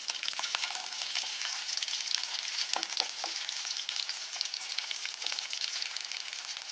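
Shallots fry in hot oil in a pan, giving a dense, steady sizzle with faint crackles throughout, close and fairly loud with no voices.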